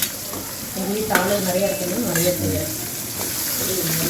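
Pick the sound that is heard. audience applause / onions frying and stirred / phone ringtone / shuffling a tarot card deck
onions frying and stirred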